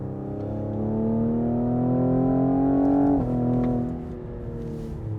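A 2020 Cadillac CT5-V in track mode accelerates from inside the cabin, its engine note rising steadily in pitch for about three seconds before a brief shift and a settling drone, loud and unaccompanied by talk.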